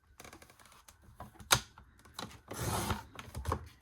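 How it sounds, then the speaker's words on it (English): Paper being cut for a photo folio with a trimmer, with scattered clicks and taps, one sharp snap, and a longer slicing swish near the end, fairly quiet. "Now I'm going to cut at 5 1/4 each of these."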